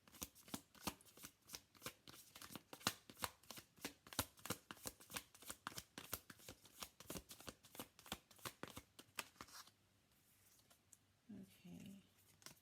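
Tarot cards are shuffled in a quick, crisp run of riffling flicks for about ten seconds, close and fairly quiet, then stop as faint voices follow.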